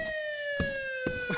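A police car siren in a video game wails with a steady, close tonal pitch, punctuated by short percussive knocks or thumps; no voices speak over it.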